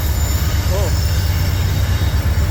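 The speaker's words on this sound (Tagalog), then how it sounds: "yung tren, napakahaba niyan, hanggang yan doon sa dulo. Nako, ang ingay." A long train passes noisily, a loud continuous low rumble and rattle that stays steady from start to finish, with a faint brief voice in the middle.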